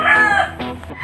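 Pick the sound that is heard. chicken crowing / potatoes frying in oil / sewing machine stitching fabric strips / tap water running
chicken crowing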